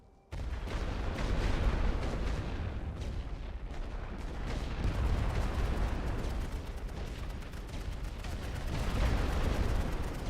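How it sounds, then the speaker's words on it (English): Video game battle with continuous machine gun fire and distant explosions, a dense, rolling roar of rapid shots that begins abruptly and stays loud throughout. "Where the fuck is that machine gun fire coming from?"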